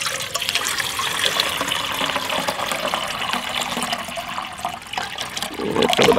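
Water pours steadily into a pot at a campfire, a continuous splashing rush that lasts several seconds with no voices.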